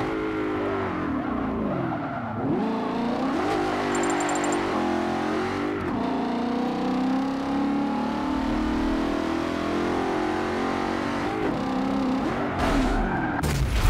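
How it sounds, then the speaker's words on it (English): Race car drifting sideways into a wall in Forza Motorsport 7, engine revving and pitch swooping up and down over continuous tire skid, with a sharp impact-like burst near the end; no talking. "Drifting it sideways and it's going to a wall"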